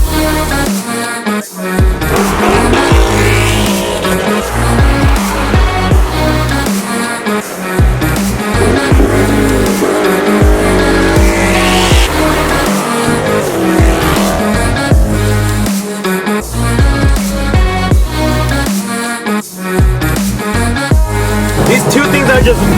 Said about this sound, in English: Loud, they're mean, obnoxious. Everything a muscle car is, these cars are definitely it.